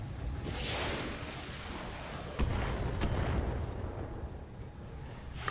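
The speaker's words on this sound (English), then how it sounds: "Thunderbolt missiles." Thunderbolt missiles fire and explode in the RogueTech mech battle game, giving a fairly faint, rumbling volley with a few sharp bursts over a continuous booming roar.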